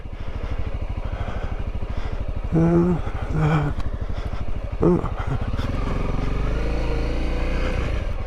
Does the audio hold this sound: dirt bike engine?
yes